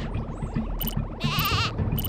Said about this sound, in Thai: เสียงร้องของลูกแกะดูเหมือนว่าเสียงจะมาจากทางนั้น